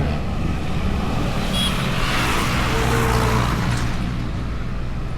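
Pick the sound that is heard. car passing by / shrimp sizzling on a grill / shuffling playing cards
car passing by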